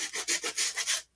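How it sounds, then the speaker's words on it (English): Light hand sanding of a craft piece: about six quick, rhythmic rubbing strokes, close and fairly soft, with no talking. "I'm going to do just a little sanding."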